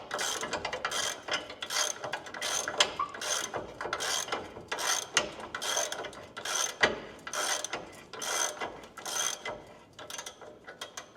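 An impact wrench removes a bolt from a Chevy Tahoe in a series of short, evenly spaced rattling bursts, about a dozen in all, close and fairly quiet with no talking.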